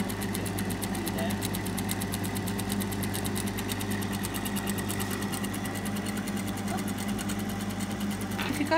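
A sewing machine runs continuously with a rapid, even needle chatter, stitching a long gathering stitch for a ruffle, while people talk over it.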